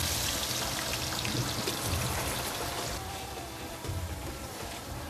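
Chopped onion frying in hot oil in a pot for a seafood boil gravy, giving a steady, dense hiss like rain that runs unbroken and fairly loud throughout, with no talking.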